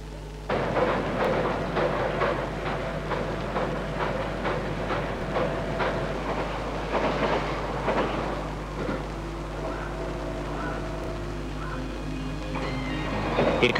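0 series Shinkansen bullet train running, a steady rumbling roll with rhythmic clicking of wheels over rail joints and a low constant drone, heard from on board throughout.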